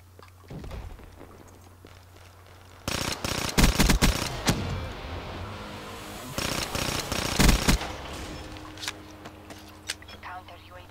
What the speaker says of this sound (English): It's my weapon that I just heard.